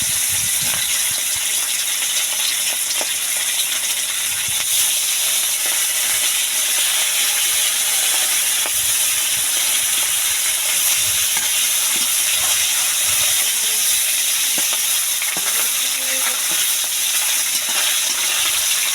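Brahmi greens and potatoes frying in a pan give a steady, loud sizzling hiss that runs without a break, with occasional stirring scrapes and no talking.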